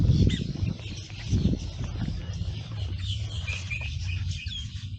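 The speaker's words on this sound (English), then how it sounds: "look at those little birds" Small birds chirp and tweet in the Everglades at Loxahatchee, high thin calls scattered over a steady outdoor background, moderately faint and coming from a short distance.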